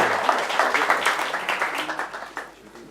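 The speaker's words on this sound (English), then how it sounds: "Round of applause for these 4." A small crowd gives a short round of applause, brisk clapping that tapers off quickly after a few seconds.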